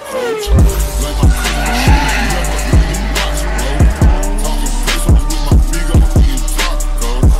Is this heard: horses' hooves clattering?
no